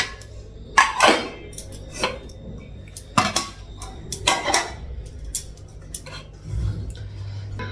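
Metal clatter of a lid set on a pot of curry, with a few sharp clanks and knocks spread over several seconds in a quiet kitchen.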